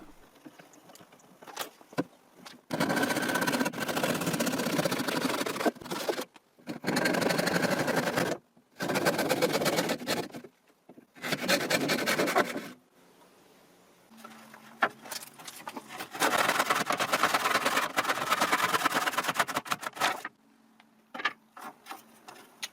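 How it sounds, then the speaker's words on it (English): Small wooden wedges are cut with a handsaw for a wooden clamp, heard as loud bursts of fast, rhythmic back-and-forth strokes separated by short pauses. "let's see if I can cut the wedges I need to make this wooden clamp"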